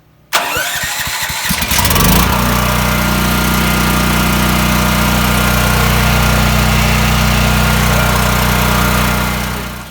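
A Champion 10,000-watt dual fuel gasoline/propane generator cranks with a rapid sputter and then catches, settling into a loud, steady engine drone that runs evenly to the end, with no talking.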